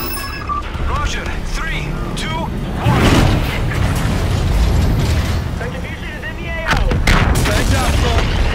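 Gunfire and mechanical battle noise in Call of Duty: Infinite Warfare, a dense, loud barrage of shots and rumbling blasts with radio-style voices talking over it throughout.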